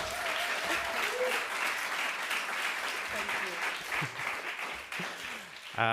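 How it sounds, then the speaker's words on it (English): Audience applause at a European Press Prize event, a sustained steady patter of clapping from a seated crowd, with a voice speaking faintly under it and a louder voice coming in at the very end. "please help me give her a round of applause"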